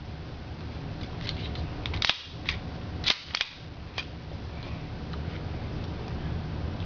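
Toy US Army tribute pistol fitted with a compensator firing a few sharp cap-gun-like snaps, singly and in a quick pair, over a faint steady background.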